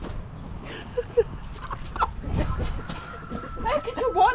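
Hen clucking in short, scattered calls near the microphone, mixed with background voices and shuffling.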